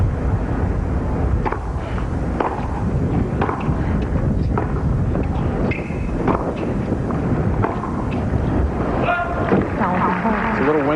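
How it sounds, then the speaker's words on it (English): Wind blows hard and steadily across a big open-air tennis stadium in Montreal during a 2002 women's match, buffeting the microphone as a broadcast commentator talks over it. "Windy down there."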